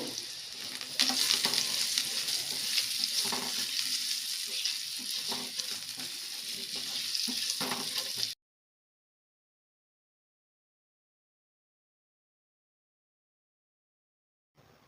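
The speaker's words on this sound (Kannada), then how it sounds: "ಇದು ಚೆನ್ನಾಗಿ ಫ್ರೈ ಆಗಲಿ." Potatoes fry in a pan with spices and salt for a dhaba-style aloo sukka, giving a steady, close sizzle with a few stirring scrapes for about eight seconds, then silence until a brief return at the end.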